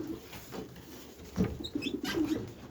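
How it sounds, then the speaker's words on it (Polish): Soft, low coos from three pigeons repeating in short phrases nearby, with a few faint chirps and rustles in a quiet space. "Tutaj siedzą trzy gołębie, to powinien mieć lżej."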